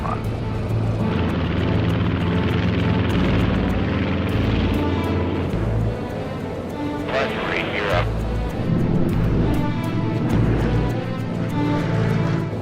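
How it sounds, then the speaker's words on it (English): Engines of a Canadair CL-215 water bomber run loud and steady as the aircraft readies for a test flight, a continuous propeller drone with shifting pitch, and people talk over it now and then. "Finally, this CL-215 is ready for a test flight."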